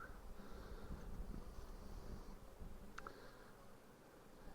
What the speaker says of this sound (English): There are a lot of bees up on this top board here